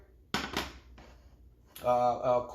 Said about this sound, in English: the first thing I'm going to do is I'm going to take my crepe pan